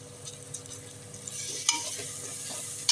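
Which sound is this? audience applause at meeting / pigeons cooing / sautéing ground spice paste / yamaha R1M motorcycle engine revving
sautéing ground spice paste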